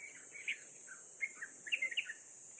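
A dove calls near a forest stream, its short notes repeating irregularly at moderate distance over a steady high insect drone, with no talking.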